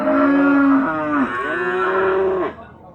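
A thin, skinny beef cow moos three times in close succession, each call loud and near with a drawn-out, wavering tone, the last one tapering off into quiet.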